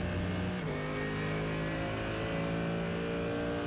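A Mercedes GT3 race car in a racing video game accelerates at full throttle, its engine note climbing steadily in pitch after a quick shift early on, loud and continuous with no talk.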